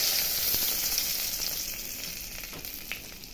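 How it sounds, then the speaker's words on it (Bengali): Dried red chilli and bay leaf dropped into hot oil left from frying pointed gourd, giving a close, steady crackling sizzle that fades slightly toward the end, with no voices. "ওই তেলেই শুকনো লঙ্কা তেজপাতা দিয়ে দিচ্ছি"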